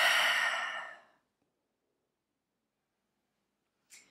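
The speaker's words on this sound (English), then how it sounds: "One more deep breath in. And breathe out." A deep, long exhale during a Pilates stretch, breathy and close, fading out over about a second, then quiet before a short faint breath near the end.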